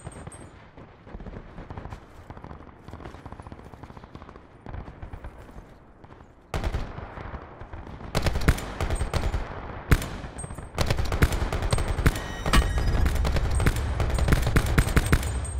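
Gunfire in Call of Duty Black Ops 4 battle royale mode: scattered distant shots give way to loud, close bursts of rapid automatic fire and single cracks, intensifying toward the end.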